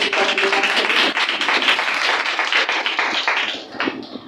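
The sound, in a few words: congregation clapping in worship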